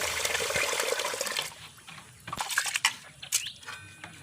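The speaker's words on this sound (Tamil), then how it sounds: "2-3 தடவை நல்லா களைஞ்சி எடுத்துக்கலாம்" Soaked basmati rice, one kilo, is swished and rinsed in water by hand, giving sloshing, splashing bursts that are dense at first and then come as irregular close splashes.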